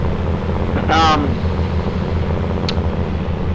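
A farm tractor pulling a big ripper on a dairy farm, its low engine chugging steadily beneath gusty wind noise, with a brief voice cutting in partway through.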